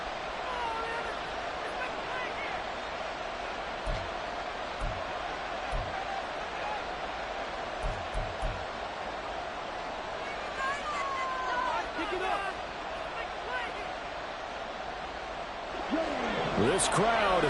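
Steady stadium crowd roar in a football video game, a continuous loud wash of murmuring fans with occasional thuds, sustained throughout with a swell near the end.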